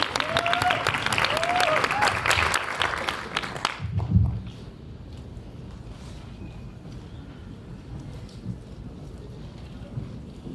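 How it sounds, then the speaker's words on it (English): A debate grand final audience applauding loudly in a hall, dense clapping for about four seconds that stops abruptly and leaves a quiet room with faint rustles and shuffling. "Please give one more round of applause for everyone"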